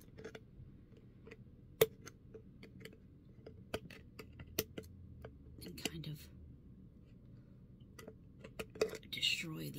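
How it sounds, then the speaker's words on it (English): Scissors snipping at a Cabbage Patch doll to cut off its head, giving a series of sharp, scattered clicks and metallic snaps over a quiet crafting table. "we're going to have to use our scissors"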